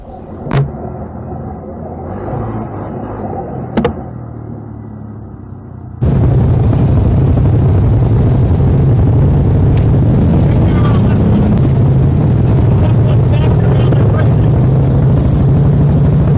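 A group of side-by-side off-road vehicles riding together: after a quieter opening with faint engine sound and a couple of sharp knocks, a loud, steady engine roar with wind noise fills the rest close to the microphone.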